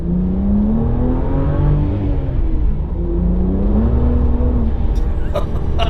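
A BMW M car engine pulls hard and steadily, its pitch rising and falling as it accelerates, with a constant road rumble underneath and brief clicks near the end.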